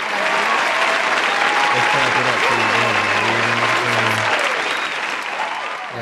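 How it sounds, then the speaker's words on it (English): A studio audience at a talk show or interview breaks into sustained, loud applause that holds steady and tapers slightly at the end, with voices speaking over the clapping. "clap it up for you, bro."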